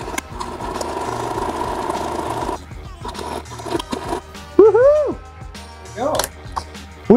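A sewing machine stitches the side of a cosplay utility belt pouch, a steady mechanical whir that runs for a couple of seconds and then stops, followed by quieter handling sounds and short, rising, tonal squeaks.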